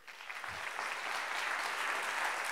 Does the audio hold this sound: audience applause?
yes